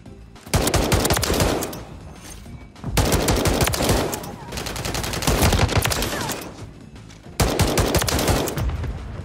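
DM56 Immolator rifle fire in Modern Warfare 3, a loud, dense, sustained volley of rapid gunshots in three long bursts separated by brief pauses, close and dominant, with no talk over it.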